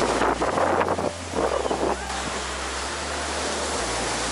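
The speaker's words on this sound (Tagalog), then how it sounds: "Yeah, medyo maalon daw talaga. Maalon niya ngayon." Rough surf at Puka Beach, Boracay, roars steadily over heavy wind buffeting the microphone, loudest in the first two seconds and then settling into a continuous wash of breaking waves.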